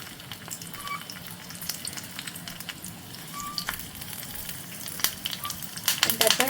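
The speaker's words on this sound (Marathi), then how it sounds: "यात मी सगळ्यात आधी मिरच्या घालणार आहे आणि कढीपत्ता घालणार आहे" Green chilies and curry leaves sizzle and crackle in a little hot oil, a steady close frying hiss with scattered pops that grows louder and busier toward the end.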